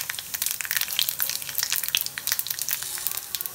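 Mustard seeds, cumin and urad dal being tempered in hot oil for temple-style curd rice, a dense run of rapid crackling pops over a steady sizzle, close and fairly loud, no talking.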